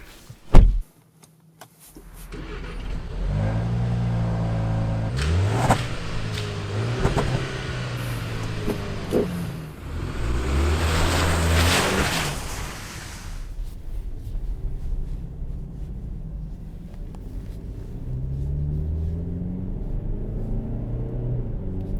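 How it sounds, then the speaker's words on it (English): A Jaguar E-Pace starts, then its 249-horsepower turbocharged petrol engine revs up through several gears, rising whines and deep rumble swelling loudly before settling into a steady cruising drone. "This 249 horsepower turbocharged petrol engine pulls down from low revs"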